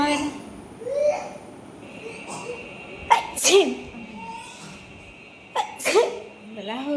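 Two sharp sneezes about two and a half seconds apart, close and loud, with faint voices murmuring in the background.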